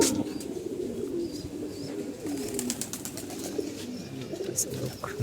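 Pigeons cooing in a rooftop loft, soft low coos repeating steadily throughout with a few faint chirps, close and continuous.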